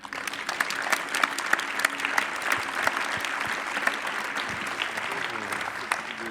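An audience in a conference hall claps for trainers who took part in a study, a dense, sustained round of applause lasting throughout with a faint murmur of voices beneath.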